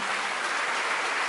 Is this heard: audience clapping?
yes